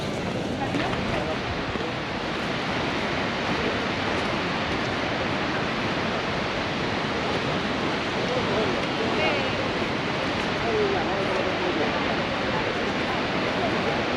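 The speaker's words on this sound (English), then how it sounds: "here is the waterfall" Icelandic waterfall, Skógafoss or Seljalandsfoss, roaring as a steady, dense, loud broadband rush of falling water that holds unbroken from start to finish, with no pauses.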